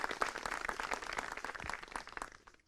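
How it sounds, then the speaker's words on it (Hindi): A gathering of farmers at a village chaupal discussion on natural farming claps in welcome, a quiet, scattered patter of hands, somewhat distant and uneven. "जोरदार से तालियों से स्वागत कीजिए"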